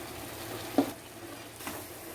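Vegetables go into a hot pan for kurma and sizzle in the oil, with a spatula scrape and clatter, then a second quieter stir under the steady frying hiss.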